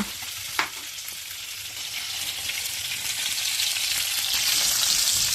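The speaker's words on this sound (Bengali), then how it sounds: "আমার মাছগুলি এদিকটা ভাজা হইতেছে।" Koi fish frying in a pan for a light curry with beans and potatoes, giving a steady, close, broadband sizzle that swells slightly louder over several seconds, with one brief clink near the start and no talking.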